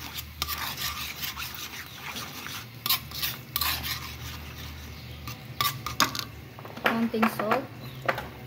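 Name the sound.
stirring fried milkfish with garlic in a pan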